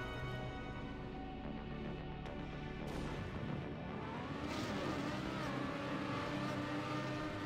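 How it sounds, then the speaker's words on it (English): An AI-driven race car in the video game Trackmania gives a steady, loud engine drone that shifts in pitch as it accelerates and drifts, with no talk over it. "Here is the AI's best run."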